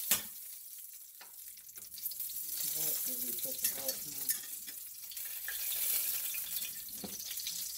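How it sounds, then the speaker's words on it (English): Butter-flavored Crisco melts in a hot skillet, giving a soft, steady sizzle with faint crackling and a few clinks, close by, while someone talks over it. "I'm going to go ahead and melt out. Melt out my butter flavored Crisco."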